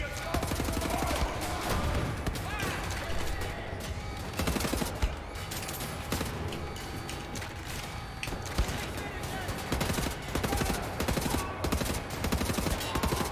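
Sustained gunfire in the Wolfenstein: The New Order shooter, dense overlapping bursts and ricocheting shots with mechanical clatter underneath, loud and continuous with brief gaps, a player's voice talking over parts of it.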